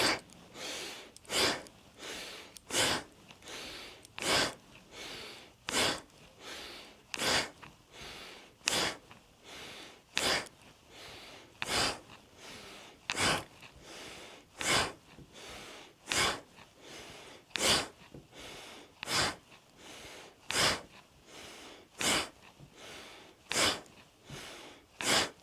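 Forceful, rhythmic breaths during yoga cat and cow, with quick sharp exhales repeating steadily about once every second or so over a long stretch, close and clear with no talk.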